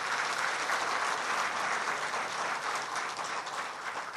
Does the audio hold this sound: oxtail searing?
no